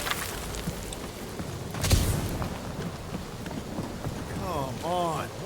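Steady rain hisses across a cliffside scene in Marvel's Guardians of the Galaxy video game, a continuous wash of noise with a brief swell midway and a voice speaking faintly near the end.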